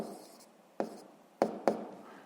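Pen strokes on paper while a physics solution is written down, heard as three or four short, distinct scratches spaced irregularly over a quiet room background.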